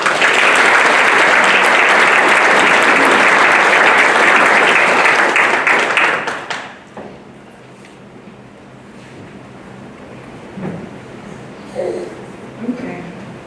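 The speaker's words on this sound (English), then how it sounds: "Please join me in a round of applause in congratulating our honors program scholars." Loud, dense audience applause at an honors program graduation fills the first six seconds, then cuts off abruptly to a quiet room with faint rustles and a few soft voices.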